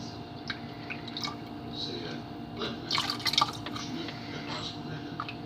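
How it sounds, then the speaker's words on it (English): Lye is poured into water for cold process soap, with faint dripping and trickling liquid and light splashes that build toward the end, without speech. "I just have to pour my lye in, which I will do right now."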